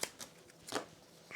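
A deck of cards from the board game Kingdom Death: Monster being shuffled on a table, a few soft papery riffles and snaps in quick irregular bursts, close and quiet.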